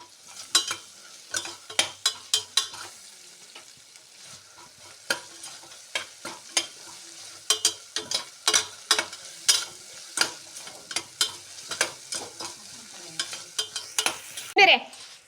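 Tomato paste frying in a pan for tomato biryani is stirred with a spoon, giving repeated scraping strokes over a low, steady sizzle.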